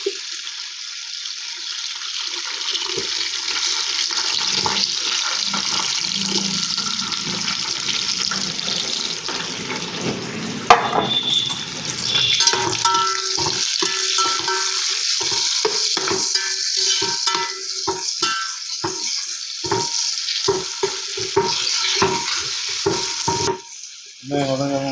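Onions fry in a pan for homemade chicken biryani, a steady close sizzle broken by the scrape and clatter of stirring, with no voices throughout.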